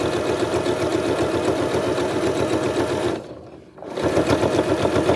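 A sewing machine stitches quilt binding in a loud, close, rapid rhythmic whir, briefly stopping before resuming.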